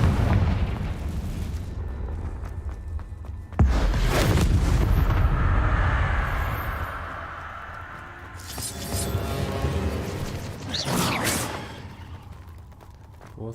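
Confringo fire spells from Hogwarts Legacy burst in loud booming explosions, a sharp blast followed by a long rumbling roar, then another swelling eruption, echoing as if inside a cave.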